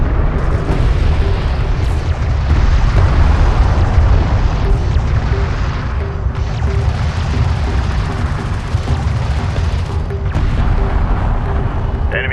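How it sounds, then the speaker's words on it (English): Railgun fire and explosions in the video game Homeworld: Deserts of Kharak, a dense, continuous roar of booming blasts and rumbling impacts layered thickly throughout, loud and unbroken. "Hostile railguns have opened up."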